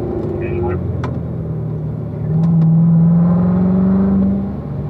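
A race car on a performance driving school track accelerates hard, its engine note rising into a loud sustained drone midway after a quieter stretch, with an instructor talking over the sound.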